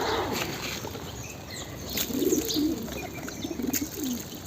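A white pigeon with a yellow leg ring takes off and flies, its wings flapping in bursts over steady outdoor background noise, with soft cooing nearby.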